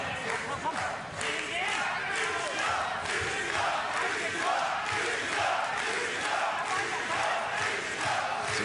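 Boxing arena crowd in a bout between Enad Licina and Steve Cunningham, roaring and chanting steadily in support of a fighter, with a commentator talking over the dense noise.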